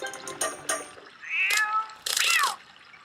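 A cat meows in The Legend of Zelda: Twilight Princess, two loud, close, rising-and-falling calls following a splash of water.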